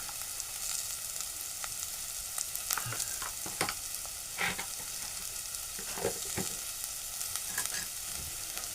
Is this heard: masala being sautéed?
yes